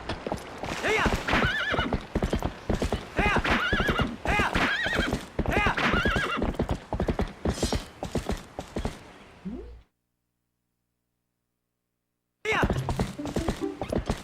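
Horse in The Legend of Zelda: Twilight Princess galloping with rapid, rhythmic clip-clop hoofbeats and neighing, loud and close, stopping for a few seconds of silence before the hooves resume.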